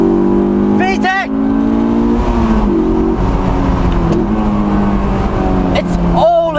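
A Honda S2000 engine revs high with strong induction noise, a loud sustained intake howl that rises and shifts pitch through gear changes, with a person's excited voice breaking in at the start and end.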